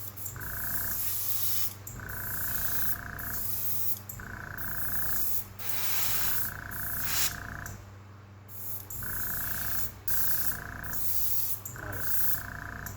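Spray paint hisses onto a Johnson spoon fishing lure in light coats, coming as a series of short, evenly spaced bursts with brief gaps between them, close up over a steady low background hum.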